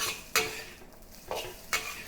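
Fried rice sizzles in a hot wok as the heat is gradually turned up. Three sharp scrapes of a utensil against the pan stand out over a faint, steady sizzle.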